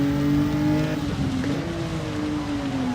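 A four-wheel drive race car engine revs hard and steady nearby, its pitch climbing and then dipping slightly as it accelerates through a turn.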